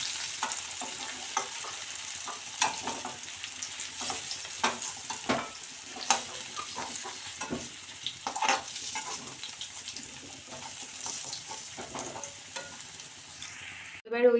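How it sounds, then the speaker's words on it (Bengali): Panch phoron, dried red chilli and a bay leaf crackle in hot oil left from frying potatoes, making a continuous close sizzle broken by frequent spatters and spoon scrapes. "এবারে ওই তেলেতেই 5 ফোড়ন, শুকনো লঙ্কা আর একটা তেজপাতা দিয়ে দেব।"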